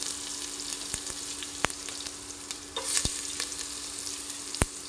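Onion and curry leaves frying in hot oil on an electric stove, a steady close sizzle with a few sharp ticks and pops scattered across it.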